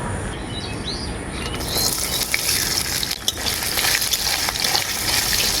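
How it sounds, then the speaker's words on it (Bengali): Grated coconut and bay leaf frying in hot mustard oil give a dense, steady sizzle that swells louder after the first couple of seconds, with scattered pops and crackles running through to the end. "নারকেলের কুচিটাকে আমি খুব ভালো করে ভেজে নেব"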